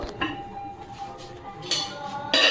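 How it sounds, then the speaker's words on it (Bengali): Lid of a cooking pot for butter chicken being lifted, metallic clinks and a brief scraping clatter of cookware, with a louder burst of rattling and sizzle at the end. "ঢাকনাটা এবার খুলে দেবো"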